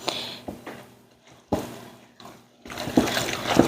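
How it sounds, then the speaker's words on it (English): Spoon stirring apple raisin muffin batter in a bowl, a few wet scraping and sloshing strokes in bursts, close and fairly quiet, with no talking. "just to make sure that all of that baking powder is in there, I am going to stir, stir, stir"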